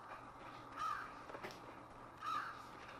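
In Limbo, a crow gives two rasping caws spaced well apart, clear and near, standing alone against a faint dark ambient hum with no voices.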